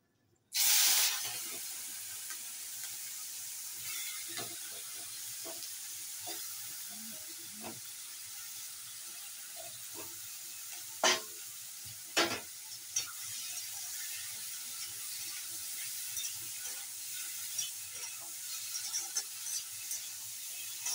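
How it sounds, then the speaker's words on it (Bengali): Shrimp dropped into very hot oil in a home kitchen burst into a loud sizzle that settles into a steady frying hiss, broken by occasional sharp pops and spatters, with no voices. "তেলটার মধ্যে চিংড়ি মাছটা ছেড়ে দেবো।"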